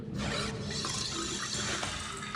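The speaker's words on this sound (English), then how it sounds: "Oh, the water's going down, okay." Water drains steadily down a sink in the Riven video game, a continuous close gurgling rush lasting throughout with no talking.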